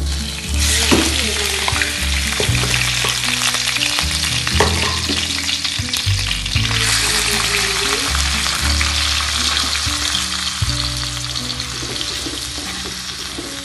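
Chicken pieces frying in a little oil with black pepper seasoning, a loud, steady sizzle and crackle that fills the whole stretch, with stirring scrapes underneath and no talking.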